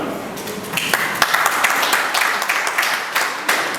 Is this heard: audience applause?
yes